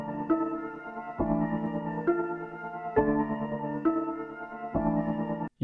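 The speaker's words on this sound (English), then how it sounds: "I took the original flute and layered it" Hip-hop beat with the original flute sample layered over it, a steady looping pattern of punchy hits every second or so under sustained melodic tones, moderately loud with no voice.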